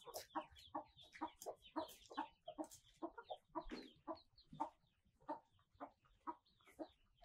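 Village country chickens peck at scattered grain, giving off a steady run of soft, close clucks and short murmuring calls at an even, busy rhythm with no talking.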